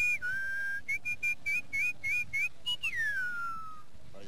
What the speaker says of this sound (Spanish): A un perrillo, por ejemplo, ¿cómo le silbarías?